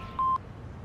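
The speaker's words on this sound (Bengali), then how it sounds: "আমি রাহুল স্যারকে ফোন করে ডিস্ক পাওয়ার খবরটা দিয়ে দিই" A single short tone from a telephone being dialed, one clean keypad beep over a faint room hum.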